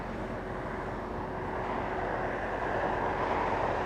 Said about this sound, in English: JetBlue 623 flying in from JFK, that one. That's an A321 flying 5 hours, 30 minutes.